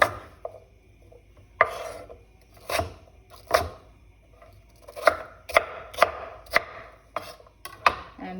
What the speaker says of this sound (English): Now we're gonna chop this off really small.